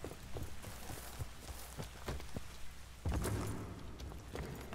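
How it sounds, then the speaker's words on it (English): Rain patters steadily in Battlefield: Bad Company 2, a close, even wash mixed with footsteps and scattered thuds from the game, with no talking. "I think the rain's stopping too."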